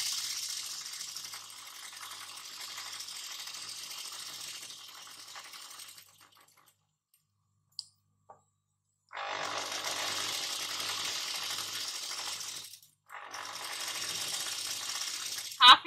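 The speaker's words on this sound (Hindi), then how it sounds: "ये देखिए मैं हल्का हल्का पेपर पेस्टिंग के ऊपर से लगा रही हूँ।" A sewing machine stitches fabric over pasted paper for designer kurti or blouse sleeves, running in two long whirring bursts separated by a quiet pause with faint clicks, at moderate, close range.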